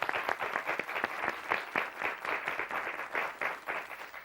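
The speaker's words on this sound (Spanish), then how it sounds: "Un aplauso para ellos." Studio audience at a TV quiz show bursts into applause, a lively, rhythmic patter of many hands with distinct claps standing out, continuous and fairly close throughout.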